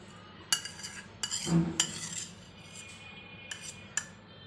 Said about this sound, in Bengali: কুসুমটা দিয়ে আবার বিট করে নেব